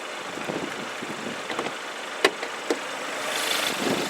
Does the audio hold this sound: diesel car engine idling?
yes